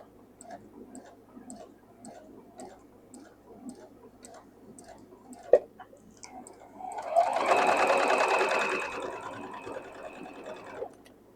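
Sewing machine stitching an ironing board cover: steady light ticking at first, then a louder, sustained whirring run of rapid stitches for several seconds before it stops, close and without talk.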